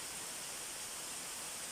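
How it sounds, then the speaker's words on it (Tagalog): Wigmore Falls waterfall in the Cook Islands runs with only a weak flow of water, giving a steady, soft broadband rush that stays even throughout, with no voices. "Mahina nga lang yung tubig."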